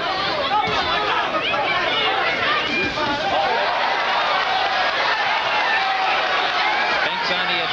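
A boxing crowd at a light heavyweight championship bout roars and murmurs in reaction to Michael Spinks attacking, forming a dense, continuous wash of cheering and chatter throughout.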